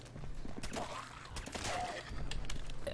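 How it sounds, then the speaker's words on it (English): Modern weapon gunfire in Fallout 4 Survival: quiet, scattered sharp shots and bursts over a low background, irregular rhythm, somewhat distant and faint. "the reason I don't really like modern weapons is the sound effects. They're all like way too loud"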